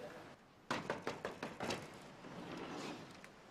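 Knocking on a door in an Indonesian TV drama scene: a quick run of about six firm knocks, close and loud, after a moment of quiet, then a faint room tone.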